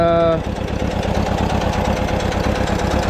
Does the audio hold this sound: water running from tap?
no